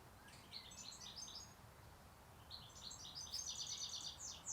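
Sparrows near a greenhouse give two bursts of bright, rapid chirping, faint and a little distant, the second busier and longer, over a low ambient hum without talking.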